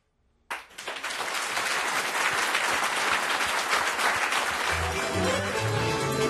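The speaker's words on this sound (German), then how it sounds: "nochmal einen grossen Applaus" An audience at a Swiss folk music evening in a mountain hut (Chemihütte) bursts into applause after a brief silence. The loud, dense clapping holds steady to the end, with faint tonal sounds creeping in near the close.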